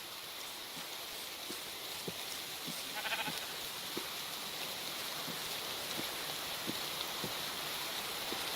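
Sheep in a video game bleat softly and repeatedly over a steady wash of rain and running-water ambience, the short calls scattered at irregular intervals and fairly faint.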